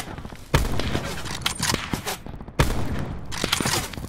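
Rapid bursts of automatic gunfire in Call of Duty: Black Ops 4 Blackout mode, two loud volleys with scattered shots and movement between them, dense and close with no talk over it.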